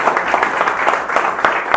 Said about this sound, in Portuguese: Salva de palmas para o nosso palestrante.